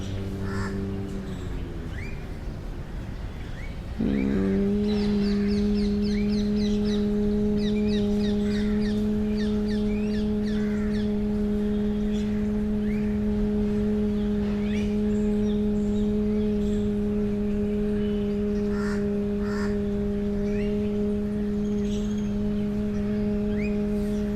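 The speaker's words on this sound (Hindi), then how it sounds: "एक्सहील करते हुए आवाज़ आएगी गले में से, म का जो है उसको स्ट्रेच करिएगा" A person doing Bhramari (humming bee) breath exhales a steady, low humming tone, a stretched "m" sound from the throat, held for a long stretch after a brief shift at the start, with faint background noise.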